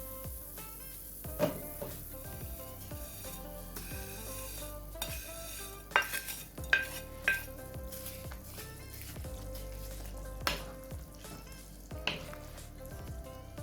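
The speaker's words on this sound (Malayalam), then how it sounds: "ഇനി ഇതിലേക്ക് നമുക്ക് സേമിയ ചേർത്ത് കൊടുക്കാം." Vermicelli goes into a pot of boiling vegetables for semiya pulao. The pot gives a steady bubbling sizzle, with stirring scrapes and sharp clinks of a spoon against the pot, and no one speaks.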